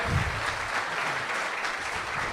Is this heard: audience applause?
yes